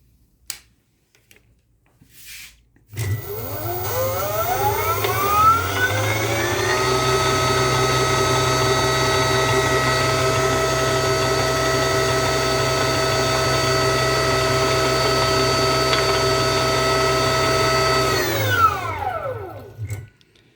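A 1200W 48/60V electric motor kit with a 42-inch differential runs in reverse, spinning up with a rising whine, holding a steady loud electric hum and gear drone, then winding down at the end.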